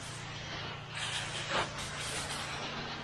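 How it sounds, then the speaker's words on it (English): Soft wash spraying on new concrete on a hot day, a steady faint hiss of liquid with a brief surge near the middle, heard alone over a low machine hum. "We're gonna go ahead and spray this for him too."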